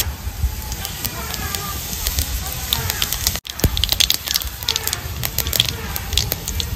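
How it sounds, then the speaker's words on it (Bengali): Whole cumin seeds crackle and sizzle in hot oil in a home kitchen, a steady close hiss with dense popping under a voice talking. "দিয়ে দেবো তেল, ফোড়নে দিয়ে দেবো গোটা জিরে"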